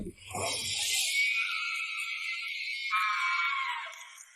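A woman lets out a long, piercing scream that holds for several seconds before trailing off, loud and close.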